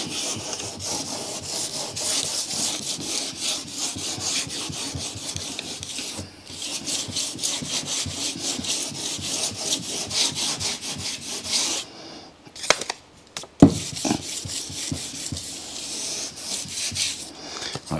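Dry 2000-grit paper on a sanding block works the paint of an E46 BMW 330Ci by hand. Quick, rhythmic rasping strokes sound close and continuous, with a brief pause and a few knocks near the end, and no speech.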